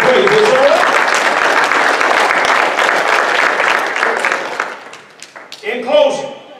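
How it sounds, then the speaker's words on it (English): Church congregation clapping in applause, a dense loud burst of many hands that fades over several seconds, followed by a voice speaking at the end. "Give me a hand clap of faith"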